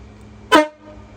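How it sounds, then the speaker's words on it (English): A MotoHorn train-style air horn fitted to a Cummins-powered truck gives one short, loud honk as the truck locks, then quiet. "I want to see if it's gonna honk when I lock the truck."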